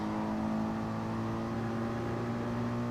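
A Gr.3 race car engine in the GT Sport racing game holds a steady, loud droning note at high revs throughout, with no voices.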